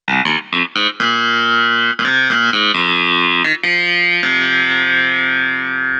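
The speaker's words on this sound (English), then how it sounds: "That's a compressor that makes the sound a bit more meaty and sustained." A Yamaha PSR-EW310 electric keyboard with a compressor effect plays a run of chords and notes with a thick, sustained, evenly levelled tone, ending on a long held chord.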